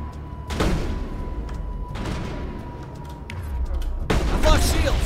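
Sniper rifle shots in the video game Mass Effect sound as three sharp, booming cracks spaced a couple of seconds apart, each trailing a short rumble, the last one loudest, with a steady hum underneath.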